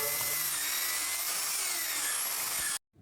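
A high-pitched drill whines steadily while boring into wood, then cuts off abruptly into silence.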